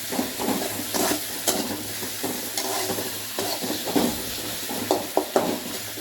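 Fiery red chilli paste is stirred into hot oil in a pan, producing a steady close sizzle with repeated scraping strokes and small bursts of spatter.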